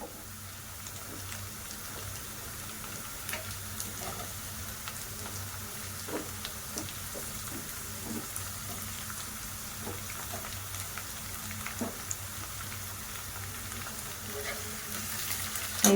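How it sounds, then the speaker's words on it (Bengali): Beans and tomato are stir-fried for veg fried rice, making a soft continuous sizzle with faint scraping and tapping of the spatula scattered throughout. "এইভাবে নাড়াচাড়া করে একটু ভেজে দেব বিনসের কাঁচা গন্ধগুলো চলে যাওয়ার জন্য।"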